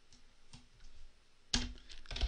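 Faint, quick clicks of a computer keyboard as someone types Python script in Nuke compositing software, with a sparse patter that turns into a denser flurry of keystrokes near the end.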